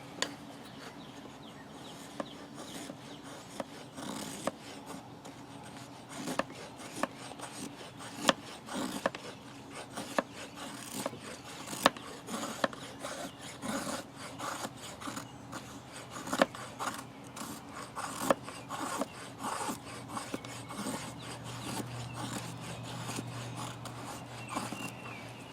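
A Marttiini knife carves small wood shavings, giving a steady close rasping scrape with frequent sharp little clicks and cuts over about half a minute, fairly quiet, with no talking.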